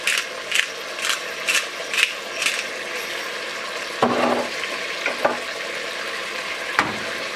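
Chicken sizzling and browning in a pan with plenty of garlic, a soft steady fry under scraping stirs and a few sharp clicks, without speech.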